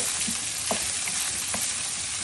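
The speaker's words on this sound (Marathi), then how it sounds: "आता ह्याच्यात त्याला आपण फ्राय करू." Sabudana seasoned with salt and a pinch of sugar frying in a pan, a soft continuous sizzle with a few light stirring scrapes, fairly quiet and without voices.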